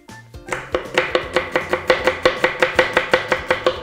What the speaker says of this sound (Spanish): Ahora un poquito de cebollita bien picadita.